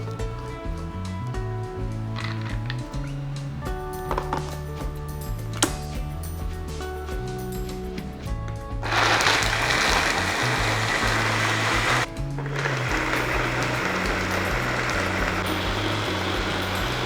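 A mixer grinder whirs loudly as it grinds cashew nuts and almonds with water into a paste, a steady broadband roar running for several seconds with a brief pause, after some clattering kitchen handling.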